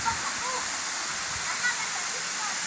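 Kawasan Waterfalls in Bohol, a steady broadband rush of falling water near a creek crossing, continuous and fairly loud throughout with faint voices now and then.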